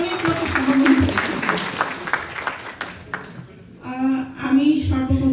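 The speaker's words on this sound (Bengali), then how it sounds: "সবাই একটা জোরে হাততালি দিন" Audience applause at a crowded Victory Day celebration event in Bangladesh, a sustained broad wash of clapping mixed with a speaker's amplified voice through a PA, the applause swelling again after a brief lull.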